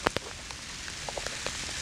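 Rain falls on a cucumber field during a downpour, with irregular close drop taps and splashes over a steady soft hiss and no talking.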